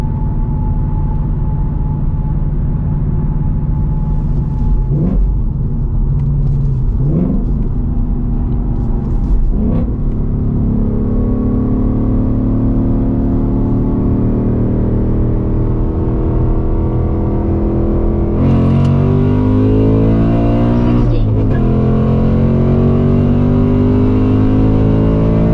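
A 500HP 2024 Mustang GT engine roars through hard pulls, its pitch sweeping up and dropping back repeatedly, loud and close from inside the car with a constant heavy drone between the rising wails.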